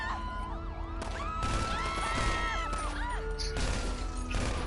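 Several wailing police car sirens in the video game GTA 5 overlap and sweep up and down, loud and busy, with engine noise and occasional crashes beneath them.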